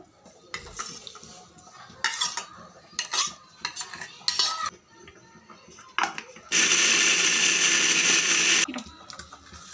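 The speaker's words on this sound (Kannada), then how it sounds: "ಅದನ್ನು ತೆಗೆದು ನಾವು ಖಾರ ರುಬ್ಬಿರೋ ಜಾರಲ್ಲೇ ಹಾಕಿ ಚೆನ್ನಾಗಿ ಮಿಕ್ಸಿ ಮಾಡ್ಕೊಳ್ಳೋದು" Cooked tomato and lentils for uppsambar whir in a mixer grinder jar for a loud two-second burst, preceded by scattered close clinks of a spoon and jar lid.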